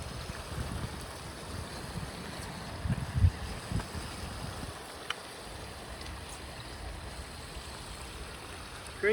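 Water flushing through a urine-soaked shag rug during cleaning, a steady rushing, gurgling wash with low rumbling throughout and occasional soft knocks.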